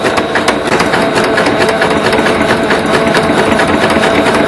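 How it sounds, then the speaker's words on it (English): A sewing machine stitches elastic onto a cloth diaper, producing a fast, loud, even whirring chatter of needle strokes throughout. "I'm just going to stretch and sew"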